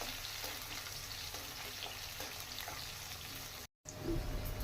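Onions frying in a pan at home while making gokarakaya curry, a continuous soft sizzle with faint stirring scrapes, quiet and close, broken by a brief dropout near the end.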